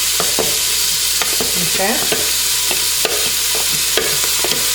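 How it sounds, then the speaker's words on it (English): Chopped onion hitting hot oil for a sukuma wiki collard greens dish, giving a steady close sizzle with repeated scraping stirs and clicks throughout; a voice speaks briefly once. "I am going to put in my onion"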